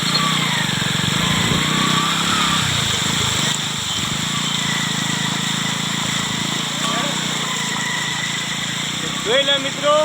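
A motorcycle ridden along a rain-flooded village road, its engine droning steadily and close throughout with tyre and water noise beneath, while a voice talks over it.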